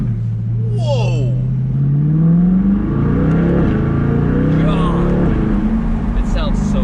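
Chevrolet C8 Corvette fitted with a new air filter pulling hard under acceleration, its loud rumbling engine note climbing through the revs close to the microphone.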